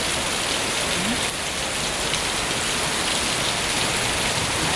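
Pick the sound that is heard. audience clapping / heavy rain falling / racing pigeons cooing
heavy rain falling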